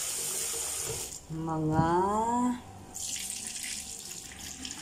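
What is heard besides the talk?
washing split mung beans in water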